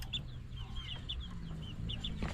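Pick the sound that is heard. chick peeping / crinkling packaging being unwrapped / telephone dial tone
chick peeping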